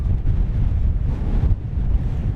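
Strong wind buffets the microphone outdoors during a small drone flight, a continuous low rumble gusting unevenly throughout with no other clear sounds.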